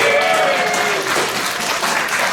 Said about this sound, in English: we'll still give Xavier a big round of applause